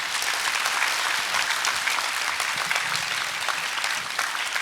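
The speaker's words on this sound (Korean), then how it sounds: "이 이야기의 시작이신 하나님께만 박수를 올려줬으면 좋겠습니다." Sustained audience applause at a Christian youth camp talk, steady, even clapping from a crowd holding for several seconds with no voices over it.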